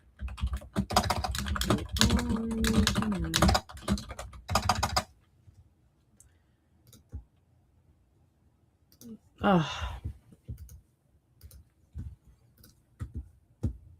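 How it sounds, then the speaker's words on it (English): Computer keyboard typing fills the first five seconds in dense, rapid bursts of clicks under a voice, then gives way to sparse isolated key taps with a brief spoken sound in between. "I hope everyone's okay with the typing noises"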